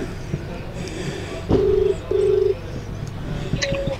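An outgoing phone call on a mobile handset: two long, steady ringback tones sound in succession, then a third begins, over quiet outdoor background noise with no talk.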